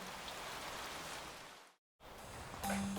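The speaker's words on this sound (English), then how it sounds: "And it's raining." Steady rain falling outdoors, a dense even hiss of drops on surfaces, with a brief cut to silence partway through before the rain resumes.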